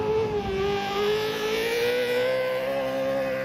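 A Subaru Ferrari rally car at the Acropolis Rally in Greece gives a loud, sustained engine note that holds a steady pitch and climbs slightly, close by, with no talking.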